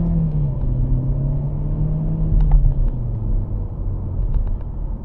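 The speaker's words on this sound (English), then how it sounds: "Nice quick little acceleration for you." 2020 Chevy Malibu LT accelerating at part throttle, a steady low engine drone climbing in pitch with road rumble from inside the cabin, and a few faint clicks.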